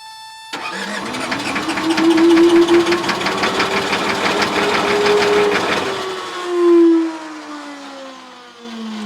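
Cheap skid steer with broken piston rings cranking on the starter, a loud rhythmic chugging grind that keeps sputtering and struggling to catch, close by, with the tone sagging and surging toward the end.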